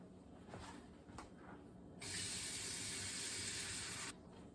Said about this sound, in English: the water in the canner is hot, so I'm adding hot water